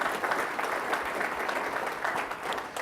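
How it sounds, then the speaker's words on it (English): A conference keynote audience at a credit union association event applauds in a steady, dense wash of clapping that stays even for nearly three seconds, slightly distant and without talk over it. "So give yourselves a big round of applause"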